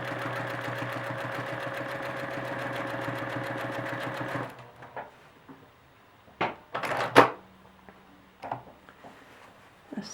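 A sewing machine runs steadily for about four and a half seconds, stitching a quilted feather in a fast, even mechanical rhythm, then stops; a few sharp clicks and handling knocks follow in the quieter remainder.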